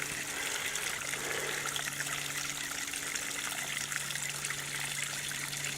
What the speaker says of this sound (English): Listen to the sound of this. There's not much water there.